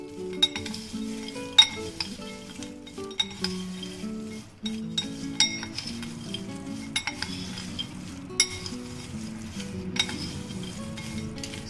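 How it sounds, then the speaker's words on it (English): A metal spoon stirs hot, crispy fried macaroni in a pan, giving repeated light clinks and scrapes against the metal with a faint crackle, close and steady, with no talking. "I'll just mix it as it's hot, so I'll be using the spoon to mix it well."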